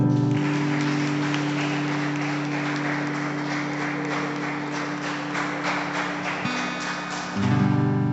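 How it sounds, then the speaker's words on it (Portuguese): A church congregation claps for the Lord over a sustained organ or keyboard drone, a steady rhythmic patter of many hands under the held chords, moderately loud and continuous. "Vamos aplaudir o Senhor."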